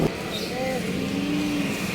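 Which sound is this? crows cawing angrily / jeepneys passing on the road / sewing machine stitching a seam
jeepneys passing on the road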